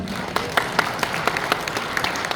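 An audience at a theology lecture claps after a song, a steady patter of applause with sharper individual claps standing out, close and fairly loud with no talking.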